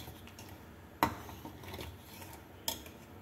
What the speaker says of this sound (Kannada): ಒಂದ್ಸಲ ಇದನ್ನು ಚೆನ್ನಾಗಿ ಮಿಕ್ಸ್ ಮಾಡ್ಕೊಳ್ಳೋಣ.